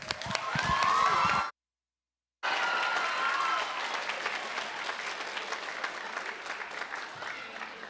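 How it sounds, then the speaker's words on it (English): An audience applauds panelists and cast at a community event, a full, dense wash of clapping and cheering that cuts out briefly, then resumes and slowly thins. "Let's give our panelists and our cast a round of applause."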